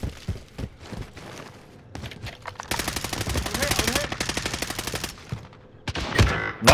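Call of Duty Warzone gunfire: rapid automatic bursts crackle loudly through the middle stretch, with scattered single shots and footsteps around them and a sharp burst at the end.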